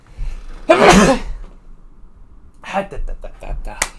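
A single sharp sneeze bursts out close up, followed after a short pause by some brief muffled vocal sounds.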